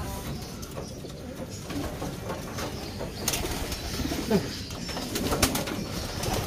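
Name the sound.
homing pigeon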